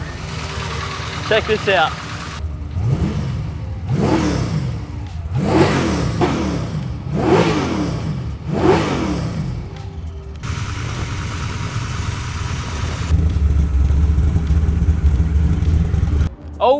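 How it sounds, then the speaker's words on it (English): Revving V8 in a 1977 Holden LX Torana, loud and close, rising in five or six strong bursts over a steady throb, with someone talking over the start and a rougher, louder patch near the end. "there's nothing better than the sound of a V8"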